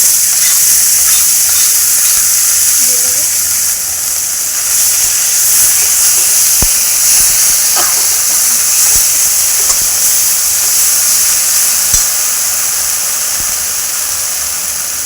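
Ground spice paste for chicken biryani sizzles in a hot pan, giving a loud, steady hiss that runs unbroken throughout, with a few faint clicks and pops.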